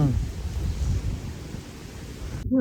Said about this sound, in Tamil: சும்மா காற்று எப்படி அடிக்குது பாருங்க